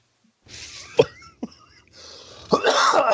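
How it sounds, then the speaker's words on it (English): A man coughs with bronchitis, sharp bursts at about one and one and a half seconds, then a louder rough fit at the end over background noise. "you could tell I still got this goddamn cough"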